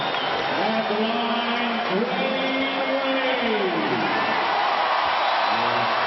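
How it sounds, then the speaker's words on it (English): A home crowd at a Miami Heat basketball game against Phoenix roars steadily through a packed arena, with rising whoops and shouts riding over a dense wall of noise. "The home crowd enjoying a 14-0 comeback run for the Heat."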